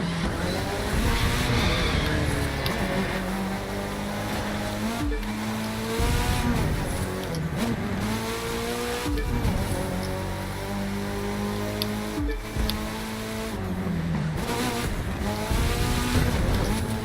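Tires on a four-wheel-drive car in The Crew 2, a racing video game, squeal and skid through a city street over a loud, steady engine drone. The squeals rise and fall in long stretches with no talking.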